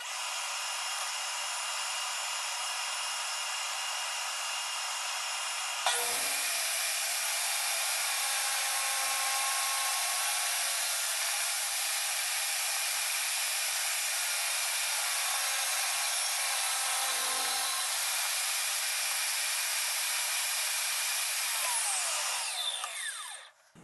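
A power tool cuts mulberry wood into small pieces for a cutting board, running as a loud, continuous high-pitched whine that grows denser partway through, with brief dips and bumps before winding down near the end.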